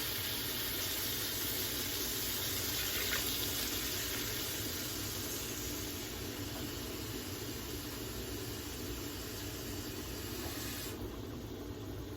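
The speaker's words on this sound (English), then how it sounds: "now I'm gonna put in 6 cups of water because I have 3 cups of rice" Six cups of water pour in a steady, continuous stream into a pot of sautéed onions for Mexican rice, a loud, even gush with no voices.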